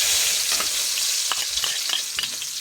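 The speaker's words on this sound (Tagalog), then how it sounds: "Pag uminit na siya, ibuhos na natin ang sibuyas." Chopped onions sizzle steadily in hot cooking oil at the start of a Filipino octopus adobo, a dense hiss with scattered crackles and pops, close and loud throughout with no talking.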